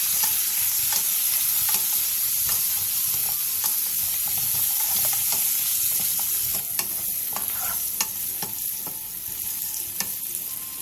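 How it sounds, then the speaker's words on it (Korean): Garlic and baby potatoes stir-fried in oil in a pan over high heat: a steady, loud sizzle with scattered scraping and stirring clicks throughout, and no voices. "팬에 기름을 두른 뒤 마늘과 알감자를 넣고 센 불에서 2분 정도 볶아주세요"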